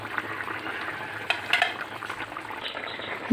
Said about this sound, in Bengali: ঝিঙের মধ্যে দেওয়া জল বা ঝোলটা ফুটে উঠেছে